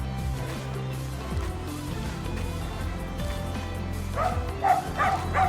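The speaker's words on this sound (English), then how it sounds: "stopping traffic by barking so that pedestrians can cross the street safely" A dog stopping street traffic so pedestrians can cross barks in a few sharp yips near the end, over a steady low rumble of traffic.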